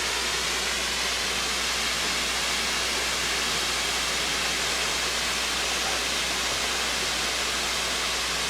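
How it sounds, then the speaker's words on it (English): A waterfall roars with a constant, even wash of broadband rushing water, loud and unbroken for the whole stretch, with no other sounds standing out. "you could still hear the audio from the picture up above, which was the falls"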